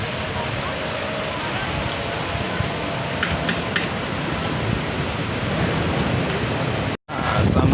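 Waves break at Labuhan Jukung beach in a continuous, loud roar of surf that fills the whole stretch, with a brief dropout near the end.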